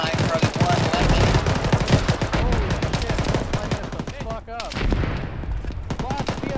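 Heavy gunfire in a ShackTac military shooter game session: dense machine-gun bursts and overlapping rifle shots, loud and close, with shouted voices cutting in over the firing.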